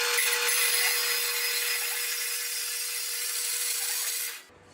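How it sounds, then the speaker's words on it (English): A bandsaw cuts through steel angle iron with a steady, loud rasping whine and a constant tonal hum, running alone for about four seconds before the cut finishes and the sound drops away. "Let's fire up the bandsaw."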